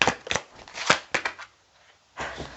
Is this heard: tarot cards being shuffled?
yes